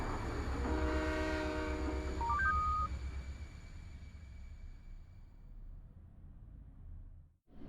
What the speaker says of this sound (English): Last train. Now departing.